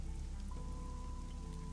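Steady, even rain patters throughout in the video game Fall of Porcupine, with a faint sustained tone underneath and no one talking.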